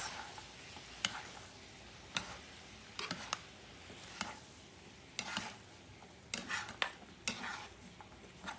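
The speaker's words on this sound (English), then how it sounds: "Going to mix this" Ingredients for chicken broccoli noodles are mixed in a bowl, quiet scraping with irregular sharp clicks and taps of a utensil against the side.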